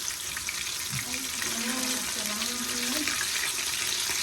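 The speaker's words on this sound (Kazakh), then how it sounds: "Міне балықтарымыз әдемі болып қуырылып жатыр, қызарып тұр, қараңыздар." Fish fries in a pan with a steady, dense sizzle that runs continuously throughout, and a faint voice hums or speaks softly underneath partway through.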